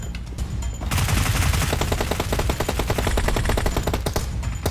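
Dense, rapid automatic gunfire rattles loud and continuous in the PUBG battle royale shooter, a sustained fusillade with no voices heard.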